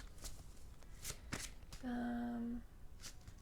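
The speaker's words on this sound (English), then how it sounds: "I actually want to just give this a wee shuffle." A deck of cards is riffled and shuffled in quick bursts, close and quiet, with a brief steady tone in the middle.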